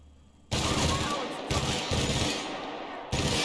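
Sustained automatic gunfire from a gun in The Outer Worlds, loud and close, starting abruptly after a brief quiet moment and running in dense bursts with short breaks, no talk over it.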